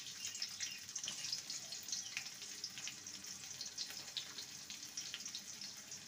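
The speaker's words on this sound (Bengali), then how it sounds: "তেলটা গরম হয়ে গেছে, দিয়ে দেবো পেঁয়াজ কুচি।" Chopped onion going into hot oil in a home kitchen, a faint, continuous sizzle and crackle with scattered little pops and no talking.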